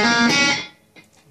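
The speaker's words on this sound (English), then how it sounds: "you play two ghost notes, then the sixth, hammer on to the eighth" A short, bright electric guitar phrase from a song rings out and quickly decays, followed by faint muted ghost-note plucks.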